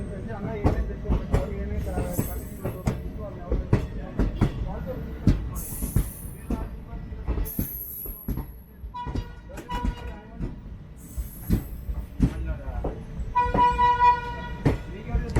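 A 22628 Trichy Intercity Express, heard from inside an AC chair car as it pulls out of Tirunelveli, rumbles and clatters with steady rhythmic wheel knocks, occasional squeals and short horn toots near the end.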